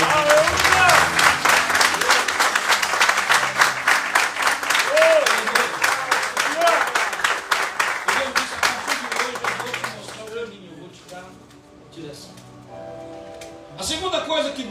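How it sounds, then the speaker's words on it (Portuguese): A congregation at a youth church congress bursts into dense, sustained applause, loud and near, fading into scattered claps with a voice speaking near the end. "Então aplaude o nome dele."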